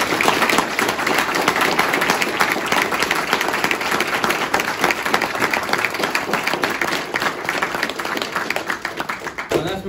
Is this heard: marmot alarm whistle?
no